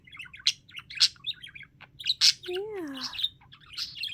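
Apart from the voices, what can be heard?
budgie chattering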